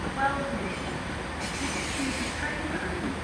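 Great Western Railway unit 800-029 pulls into Bristol Temple Meads on a delayed terminating service from London Paddington, a steady rumble of rolling stock with faint wheel squeal rising and falling under the station's ambience.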